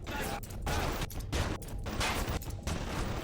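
Turrets fire at the player in the BioShock video game, in rapid bursts of gunfire separated by brief gaps. The shots are loud and dense, and a voice talks over them.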